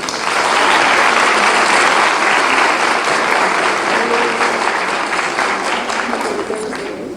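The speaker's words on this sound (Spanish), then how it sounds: "Recibámoslas con un fuerte aplauso." An audience at a nutritionists' day commemoration gives a speaker a loud, sustained round of applause. The dense clapping holds steady for several seconds and then slowly thins out.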